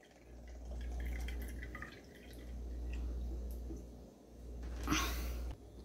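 A 100 ml bottle of acetone nail polish remover is emptied into a container for cleaning an old pan, with a steady low hum under a brief, close splash of liquid near the end.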